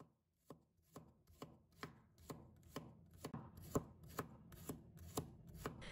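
Knife slicing garlic cloves on a cutting board, a steady run of about fourteen crisp, evenly spaced chops, close and clear with no voices.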